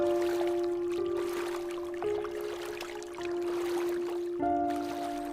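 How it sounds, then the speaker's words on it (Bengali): Oars working a small canopied country boat at night, soft watery splashes and trickles under a steady tonal drone with periodic shifts, close and moderately loud with no talk. "মাঝি নৌকা চালাতে শুরু করলো।"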